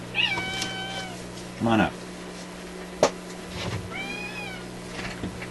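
A pet cat named Draper meows indoors several times, a long drawn-out call, then a shorter one and a rising meow, close to the microphone. Someone briefly talks to it between the cries, and a steady low hum runs underneath.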